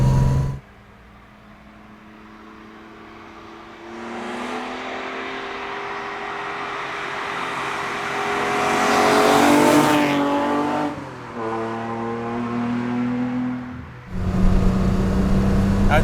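A modified Datsun 240Z engine climbs through the revs, one long rising howl that swells to a high scream, dips briefly, then pulls up again loud and close, with no talk over it.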